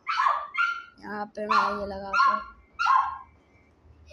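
A dog barks indoors in a room, several loud close barks and yips in an irregular burst, mixed with someone talking.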